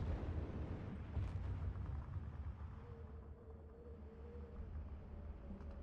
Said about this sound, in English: There's just like so much enemy artillery right now.